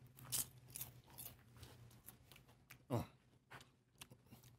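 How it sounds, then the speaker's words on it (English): Green onions are sliced for a garnish, giving a few crisp crunching cuts spaced irregularly, quiet and close, with a couple of sharper snaps standing out. "Did you hear that crunch?"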